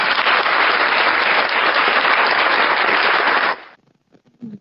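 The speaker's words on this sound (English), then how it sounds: "give him a round of applause for coming on here" Loud, dense applause from a crowd fills most of the stretch, steady and broadband, then cuts off sharply, leaving near silence with a few faint scattered noises.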